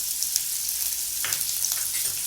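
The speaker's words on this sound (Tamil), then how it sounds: "போட்டு நல்லா வதக்குங்க" Oil sizzles softly and steadily in a pan as onions and curry leaves sauté, with a few brief clinks and stirring scrapes.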